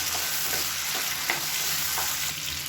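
One medium cut tomato goes into a hot pan and is stirred, giving a constant close sizzle with soft periodic scrapes of a spatula against the pan.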